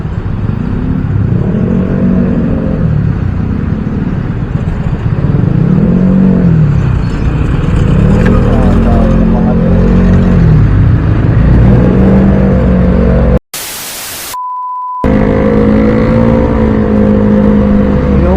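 A motorcycle engine revs hard and steadily, its rising and falling whine loud and close, briefly cut by a short break before the roaring resumes.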